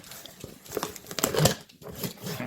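Cardboard box being pried and torn open with a screwdriver during a desk-lamp unboxing, giving close, irregular crinkling, scraping and tearing bursts that peak mid-way, pause briefly, then continue.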